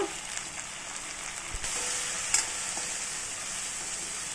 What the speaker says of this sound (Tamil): இந்த வெண்டைக்காய் வந்து நல்லா கருகி வரா மாதிரி வறுக்கணும்.